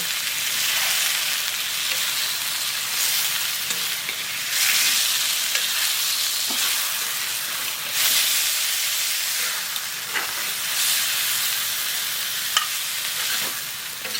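Marinated chicken sizzles and fries in masala in a home kitchen pan, a constant loud hiss with repeated scraping strokes from stirring, and no voices.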